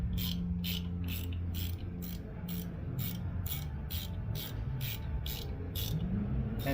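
A hand ratchet clicks in a steady rapid rhythm, tightening bolts on an A2 bowling pinsetter during rake cam replacement, close and alone over a low machine hum.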